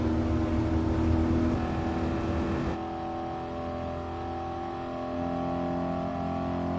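A Ford Mustang in Gran Turismo Sport drones at high speed, its engine holding a steady loud tone before dropping slightly in pitch and level partway through as it runs on without speech.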